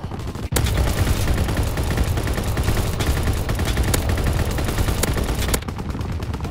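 Lewis machine guns fire in a video game battle, a loud, sustained burst of rapid automatic rounds that rattles continuously for about five seconds before cutting off.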